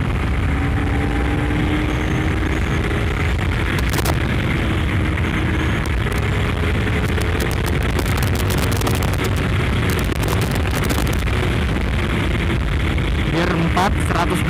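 A Honda CBR250RR sport motorcycle revs and accelerates in Sport+ mode on a busy road, its engine rising in pitch under loud, constant wind buffeting and occasional bumps.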